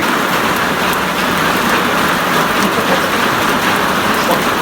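Rain falls steadily in a rural Lao village, a loud, dense, continuous patter with no break and no voices.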